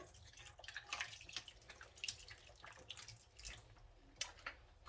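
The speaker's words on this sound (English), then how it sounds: "I'm also just going to pour a little bit of water." Water is poured by hand while hand dyeing yarn, making a faint, close, irregular trickle and splash with small drips throughout.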